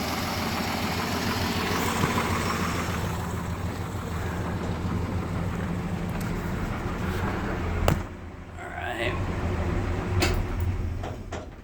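A 1964 Dodge D200 Power Wagon crew cab 4x4 with a new fuel filter and fuel pump idles steadily, its low, even engine drone interrupted by a brief clatter near the end.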